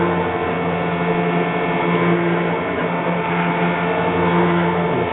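A hot wire cutter slicing a foam airfoil wing produces a steady, even electrical hum with a faint, constant buzz, holding at one level throughout without breaks.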